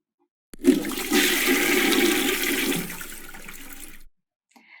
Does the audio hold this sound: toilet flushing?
yes